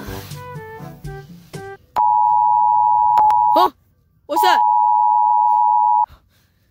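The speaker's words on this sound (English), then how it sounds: "Sounds like an alarm." Someone asks a short question, then two long, steady, piercing electronic beeps sound close by, each lasting a couple of seconds with a brief gap between.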